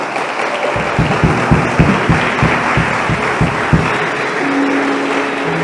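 A church congregation bursts into loud, sustained applause that fills the room, with a steady run of low rhythmic thumps beneath the clapping for several seconds before it thins out.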